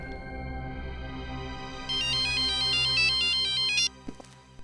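A phone ringtone plays a repeating electronic melody of bright beeping tones, loud and clear for several seconds before cutting off abruptly, followed by faint handling noise.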